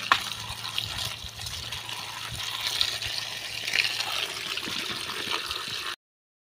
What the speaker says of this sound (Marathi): वांगी स्वच्छ धुवून घेऊया।